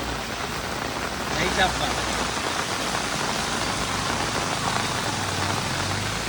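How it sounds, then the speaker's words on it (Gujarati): Heavy downpour in a village, a dense steady hiss of rain drumming on surfaces close by, continuous throughout, with a brief spoken voice near the start. "ધોધમાર વરસાદ જો લાઈવ અત્યારે"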